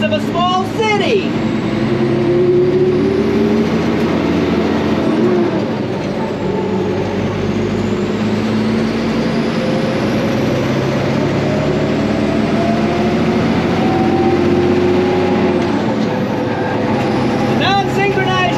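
An old military 5-ton truck with a non-synchronized transmission drives along, its engine droning steadily and rising in pitch through gear changes, with road and cab rumble throughout.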